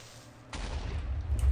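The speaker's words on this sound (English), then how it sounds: "that was a big explosion" An explosion in the Minecraft video game bursts suddenly after a quiet moment, then rolls on as a loud, sustained blast with a deep rumble.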